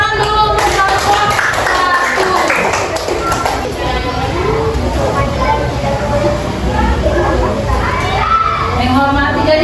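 A roomful of children in a classroom claps and cheers for a group, with lively chatter and shouting layered over the applause throughout.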